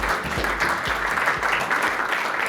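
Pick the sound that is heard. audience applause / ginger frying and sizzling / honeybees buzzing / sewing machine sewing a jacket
audience applause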